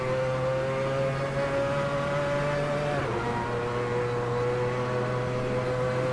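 Mazda 787B race car in Assetto Corsa on the 1966 Monza circuit, its rotary engine holding a steady, loud buzzing whine in third gear, dropping in pitch midway as revs fall, with no talk over it.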